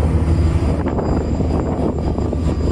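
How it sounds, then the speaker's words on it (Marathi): Engine room of a merchant cargo ship sailing out of Hamriya port toward Iran, filled with a loud, steady, droning machinery roar with deep low rumble and a constant mechanical whine, no voices. "तर आपला वॉच असल्या कारणाने आपण इंजिन रूम मध्ये आहेत"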